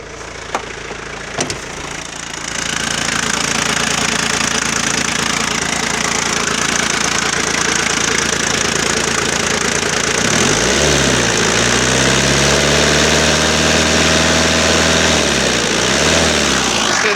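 A 2.5 TD VM diesel engine in a 1995 Jeep Cherokee XJ starts and settles into a steady, loud idle, knocking rhythmically up close; around the middle its pitch dips and swells briefly.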